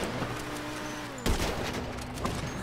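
Gunfire rattles in a GTA 5 Online gunfight, a low, continuous burst of shots with a sharper, louder crack at the midpoint and another near the end.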